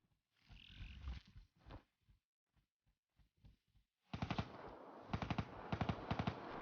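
Gunfire in Black Ops 3 played on a PC with an Xbox One controller: scattered single shots and short bursts, then loud, dense rapid automatic fire near the end.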